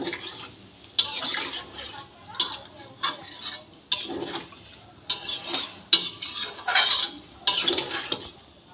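A spoon stirs jackfruit and prawn curry in a metal pot after water is added, giving repeated scraping clinks and a wet slosh at irregular intervals, close up, with someone talking between strokes.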